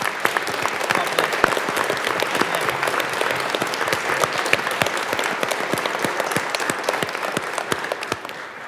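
A round of applause fills the Colorado House of Representatives chamber during a 2023 legislative session, with dense, sustained clapping from many people at a steady level for several seconds.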